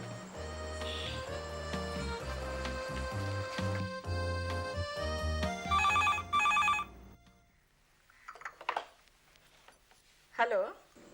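A telephone rings in a Hindi TV drama scene, bright repeated bell bursts heard over background music that then fades out, followed by brief talk.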